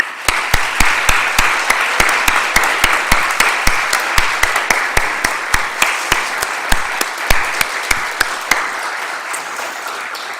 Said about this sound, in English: let's have one more round of applause for all of our recipients today